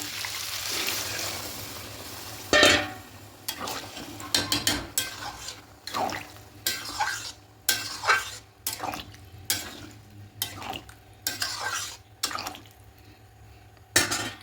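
Rice, chicken and water are stirred together in a metal pot for chicken keema pulao, with repeated close clinks and scrapes of a spoon against the pot and faint sloshing; no one speaks.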